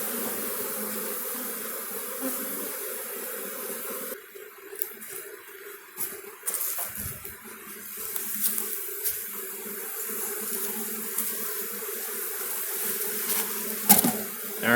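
Dense, loud buzzing of many honeybees inside a queenless cell builder hive box, a continuous close drone with occasional knocks and rustles.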